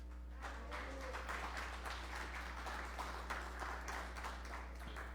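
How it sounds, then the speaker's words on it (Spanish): Faint, distant applause for children at a church gathering, a soft continuous patter of many hands over a low steady electrical hum. "Denle un fuerte aplauso a los chicos"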